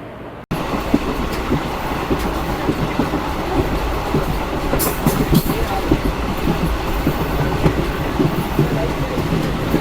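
The 19119 Gandhinagar Intercity Express rumbles past steadily and close, wheels clattering rhythmically over the rails, loud and continuous throughout.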